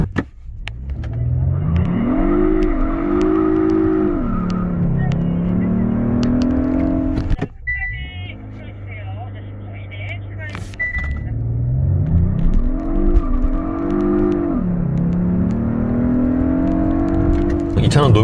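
A 2021 Hyundai Sonata N Line accelerating hard on the Inje race circuit: loud engine revs rise and fall in pitch through gear changes, drop off briefly midway, then climb again, with someone talking over the engine.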